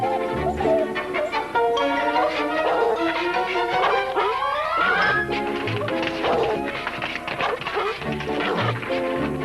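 A dog in a 1960 comedy film scene barks and yips several times over a busy music score. The barks sit close and are mixed with the music.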